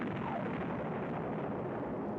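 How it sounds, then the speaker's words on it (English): A big explosion from a Star Wars ad, the Death Star blowing up, a sustained rumbling blast that fades slowly, heard alone without talk. "that's the original explosion of the Death Star"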